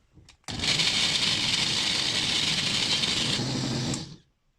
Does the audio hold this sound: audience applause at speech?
no